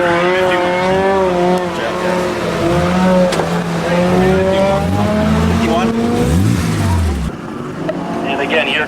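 Street-modified cars racing in an autocross competition, engines revving up and down through gear changes with rising and falling pitch, loud and close, with some tire noise and voices talking underneath.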